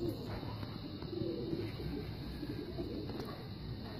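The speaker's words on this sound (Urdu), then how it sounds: "یہ مصر کبوتر ہیں، مصر جالدار کبوتر ان کو کہتے ہیں۔" Misri (Egyptian) pigeons coo softly and repeatedly, fairly quiet, over a low background hum and a few faint chirps.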